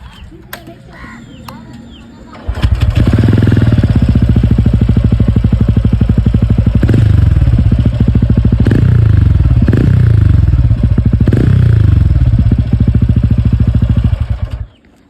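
A TVS Ronin 225 motorcycle engine, just after its third service, starts up and idles with a loud, steady thumping beat close by, then cuts off abruptly.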